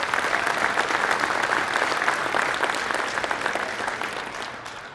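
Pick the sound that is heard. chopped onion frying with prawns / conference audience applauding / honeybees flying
conference audience applauding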